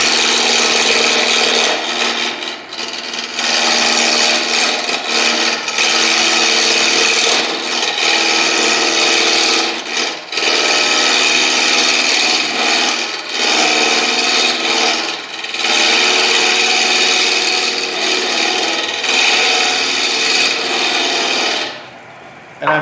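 A stabilized wood ring blank is turned and rounded on a lathe. A harsh, continuous scraping rasp sounds close and loud for a long stretch, with brief dips as the tool lifts off, and stops near the end.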